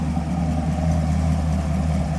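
A modified Chevrolet Camaro with an LT2 V8, fitted with a new intake manifold and flex fuel kit, runs with a steady, loud, deep engine drone and low rumbling burble, close and continuous with no talking.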